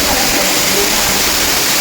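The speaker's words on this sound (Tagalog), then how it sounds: "Buak Falls." Buak Falls, a waterfall in Bunga, Oroquieta City, roars loud and steady in a continuous rushing wash of falling water, heard close and alone.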